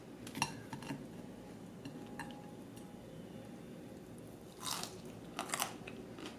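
Quiet, close crunching bites into crunchy deep-fried chicken wings, with a few sharp crackles, separated by soft pauses and faint room noise.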